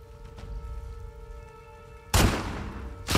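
A single loud gunshot in the video game The Last of Us Part 2 bursts out abruptly after a quiet hum, followed by a decaying echo and a second blast starting at the end.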